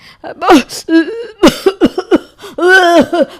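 A person coughs loudly several times in quick, exaggerated, throaty bursts, with voiced, hoarse sounds between the coughs.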